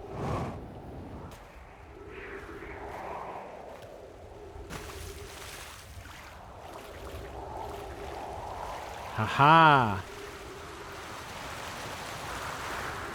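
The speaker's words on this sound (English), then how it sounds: "There's the waterfall." Running water and a waterfall in the video game Outer Wilds, heard as a soft, steady rushing wash with a brief laugh and a rising tonal game sound partway through.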